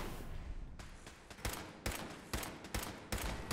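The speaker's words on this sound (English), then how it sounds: "Oh, and then there's a laser turret." A Fallout 4 laser turret fires a rapid run of bright, zapping bursts, six or so sharp hits in quick succession over a constant background hiss.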